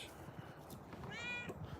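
A cat gives a short, fairly quiet meow, heard close over soft background noise.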